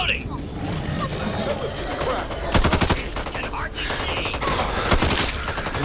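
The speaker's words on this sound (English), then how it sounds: "I'm being shot at by Hoffman, I think." Rapid bursts of automatic gunfire from the video game Back 4 Blood crackle amid busy game noise and chatter, with the louder volleys arriving in two clusters near the middle and end.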